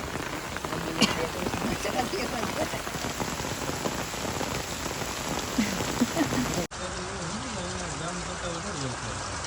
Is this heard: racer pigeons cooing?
no